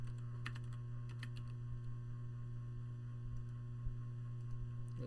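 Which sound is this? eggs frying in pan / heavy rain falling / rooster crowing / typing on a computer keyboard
typing on a computer keyboard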